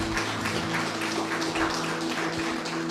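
A church congregation claps for the Lord during a Spanish-language sermon, a steady, dense patter of many hands like rain on a surface, with a faint hum underneath.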